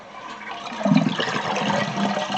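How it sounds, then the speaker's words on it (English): Toilet flushing as the red flapper lifts after the main water line is shut off, a steady rushing gurgle of draining water that swells briefly partway through and continues to the end. "Our next step is to flush it."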